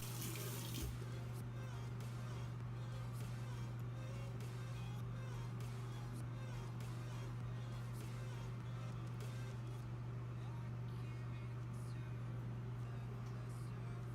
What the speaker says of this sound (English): now I'm going to drip some water on there